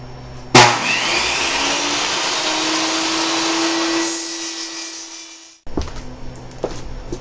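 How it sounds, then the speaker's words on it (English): A table saw rips a strip of polycarbonate plastic: a sharp start, then a loud steady whining cut for about five seconds, a sudden stop, and a few clunks and clicks afterward. "I'm going to cut this 2 inches wide by 12 inches long using my table saw."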